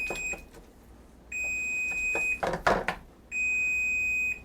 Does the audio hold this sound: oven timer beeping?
yes